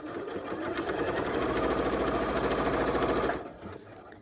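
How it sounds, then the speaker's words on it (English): A sewing machine runs steadily for about three seconds, stitching binding onto a quilt, with a rapid even whirring stitch rhythm, close and loud, then stops abruptly. "Then I will continue sewing."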